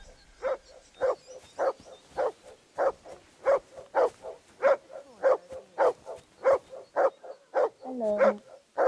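A dog in Kingdom Come: Deliverance II barks in a steady, regular series of about seventeen loud, close barks, ending with a short whine, with no talking.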